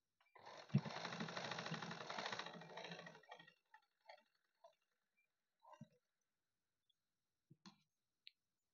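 Domestic sewing machine stitching pieces of a blouse waistband together, a steady close whirring run for about three seconds, followed by a few faint scattered clicks and handling taps.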